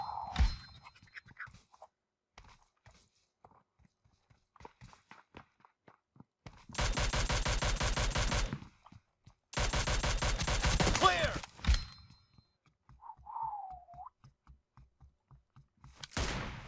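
Gunfire in the video game PUBG Mobile comes as two long, dense bursts of rapid automatic fire. They are loud and close, set between quieter stretches of footsteps and small clicks and thuds.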